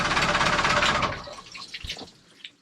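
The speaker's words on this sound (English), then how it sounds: "I hear water." Water pouring from a disconnected heat exchanger hose on a Perkins 4-108 boat engine, a steady broadband rush for about a second and a half that thins into scattered drips and splashes.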